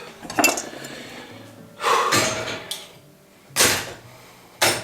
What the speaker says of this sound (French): Je vais pouvoir remettre ce qu'il y a dans l'évier dans la vaisselle.